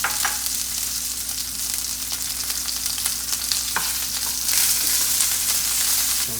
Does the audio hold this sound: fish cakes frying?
yes